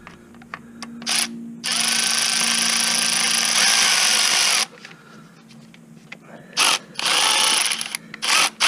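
A ratchet or power driver runs a 10mm bolt down on a Honda Accord during a tune-up, with a long steady whirring stretch followed by several short bursts close up, no talking.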